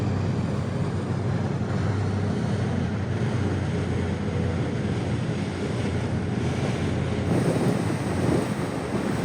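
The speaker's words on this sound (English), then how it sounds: "Here comes the pilot boat now." A pilot boat approaches a cargo ship at sea, heard as a steady broadband wash of waves, wind and engine, constant and moderately loud from start to finish.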